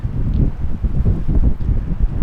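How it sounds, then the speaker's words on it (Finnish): Wind gusting in off a lake at an outdoor privy on a lakeside hiking trail, a steady, loud low rumble of buffeting microphone wind that runs unbroken throughout. "pikkusen täällä tuulee. Justiin pahimmoilleen tuolta tietenkin järveltä päin"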